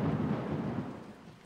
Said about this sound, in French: Maman, il est trop fort le tonnerre.